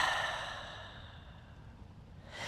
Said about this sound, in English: Let out all of the breath.